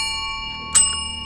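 A single bright bell strike rings out over a sustained high tonal drone, short and clear, then decays quickly.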